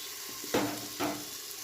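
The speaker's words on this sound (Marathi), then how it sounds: "मी असं कुकर घेऊनच हलवत असते." Dal khichdi ingredients are stirred inside a pressure cooker over heat, giving two short scraping, sizzling swishes about half a second apart against a quiet background hiss.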